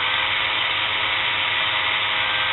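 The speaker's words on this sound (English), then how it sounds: "You can see as the drill increases in speed, it increases its reading." An electric drill running up in speed, giving a steady, loud motor whine that holds evenly from start to finish with no talk over it.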